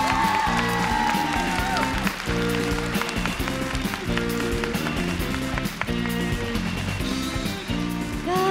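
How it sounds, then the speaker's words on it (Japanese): Sustained applause from an audience welcoming guests at a Digimon Adventure 15th anniversary event, steady and loud, with music playing underneath. "どうぞ皆様大きな拍手でお迎えください。"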